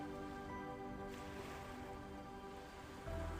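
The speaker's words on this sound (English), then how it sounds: "In the distance, you can hear the ocean." Steady, soft wash of distant ocean surf rolling near coastal dunes, a continuous low rumble with no distinct crashes, faint and even throughout.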